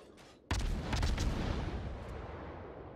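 A World of Warships naval battle: a heavy ship's gun salvo booms out suddenly, then rumbles and rolls away in a long, dense decay, with no voices.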